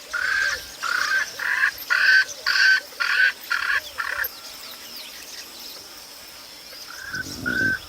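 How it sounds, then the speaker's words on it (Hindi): A Swainson's francolin gives a loud, harsh series of about nine rhythmic, grating calls, close and carrying, followed by a pause and two more calls near the end. "छोटे से इस पक्षी की आवाज बहुत तेज है।"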